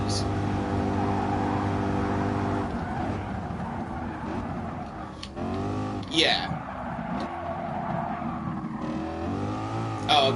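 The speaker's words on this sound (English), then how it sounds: "the Mazda Miata is super loud, and I never knew that they could be that loud" Mazda Miata engine in the GT Sport racing video game, a loud buzzing drone that rises and falls as the car revs, shifts and brakes. Someone talks over it and the engine noise fades partly in the middle.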